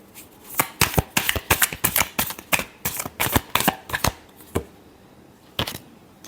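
A deck of tarot cards being shuffled for a love reading, a run of close, crisp riffling bursts in quick succession, then a pause and one final riffle, with no talking.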